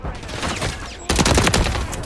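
Gunfire in a Call of Duty: Modern Warfare 3 multiplayer hardpoint match, a brief loud burst of rapid shots cutting in after a second of game ambience, with a radio voice faintly underneath.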